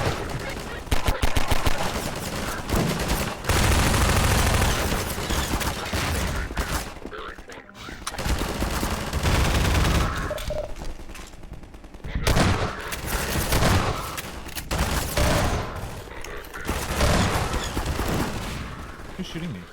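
Long stretches of Half-Life 2 combat gunfire: loud automatic bursts and single shots come in waves over about twenty seconds, separated by brief quieter gaps.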